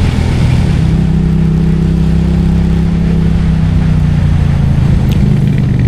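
Motorcycle engine held at full throttle in second gear on a steep mountain road climb toward Monte Zoncolan, a loud, steady, close droning roar with no letup.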